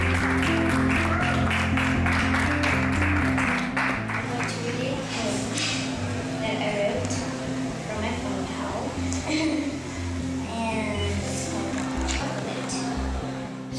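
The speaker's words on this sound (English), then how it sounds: "Please give warmest round of applause for Miss Desiree Ewing" Audience clapping to welcome a poet onstage at a performance, steady applause at first that gradually thins out, with some voices and room noise mixed in.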